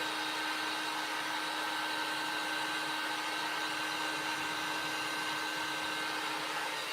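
A hair dryer drying a fabric transfer on a Christmas tea towel, a steady, loud, continuous blowing whir held close throughout, with no talking.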